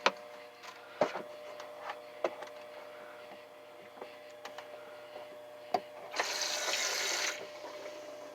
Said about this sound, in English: Yeah, I got running water in my RV.